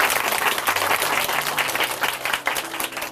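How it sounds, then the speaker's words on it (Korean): An audience at a Korean church broadcast bursts into steady, dense applause, many hands clapping together at close range, fading slightly toward the end. "다시 한번 응원의 박수 부탁드립니다"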